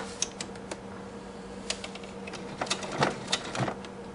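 A sewing machine stitches doll pajama fabric at a slow, cautious pace, close by, with a steady mechanical hum and light irregular ticking and clatter.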